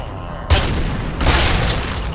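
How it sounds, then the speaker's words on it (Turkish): Two sharp, booming sniper rifle shots from a Minecraft gun mod, one about a second after the other, each followed by a broad rushing tail that fills the short stretch. "Bir de sniper var. Uzaktan mesela bunu vurmayı deneyeceğim ya."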